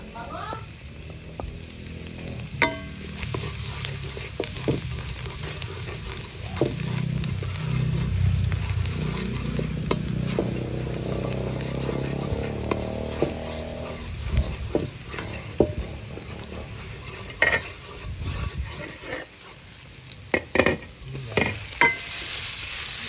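Garlic frying in butter in a pan, a continuous loud sizzle with stirring scrapes and occasional clinks of a utensil, close up.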